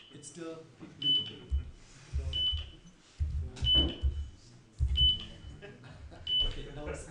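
A computer running a PowerShell progress bar script gives short, high electronic beeps at regular intervals of a little over a second, clear and close, under someone talking.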